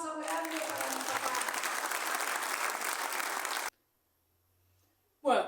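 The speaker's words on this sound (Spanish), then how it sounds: "un aplauso grande para mi papá" Applause from the audience at a book presentation, a steady crowd of clapping that fills the room for several seconds and then cuts off abruptly into near silence before a brief burst of sound returns.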